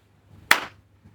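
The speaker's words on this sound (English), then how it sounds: "I should clap." A single sharp hand clap rings out close and clear in a quiet room, alone with no voices, then fades quickly into near silence.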